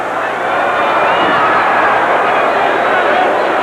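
A wrestling arena crowd roars steadily and loudly, a dense wash of cheering and shouting voices that holds without a break.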